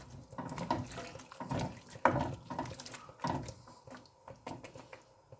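Water runs and splashes into a cooking pot of Goan pork belly stew with carrots and vegetables, an uneven pouring with bursts and lulls, close by.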